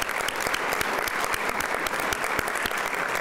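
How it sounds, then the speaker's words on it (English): Steady, dense applause from a sizable crowd at a Black History celebration, clapping continuously and evenly throughout at moderate loudness. "give our sponsors, our program participants, and yourselves a nice round of applause one more time"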